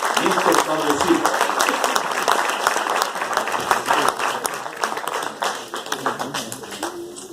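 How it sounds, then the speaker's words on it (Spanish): An audience applauds during an award presentation at a cultural foundation prize ceremony in Santiago del Estero, with steady, dense clapping throughout and a voice speaking over it. "Con el aplauso de ustedes hace la entrega el presidente de la Fundación Cultural Santiago del Estero, el doctor Néstor Pablo Silva."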